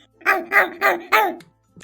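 A dog in a Minecraft game gives four quick, evenly spaced barks, close and clear, followed by a faint short sound after a pause.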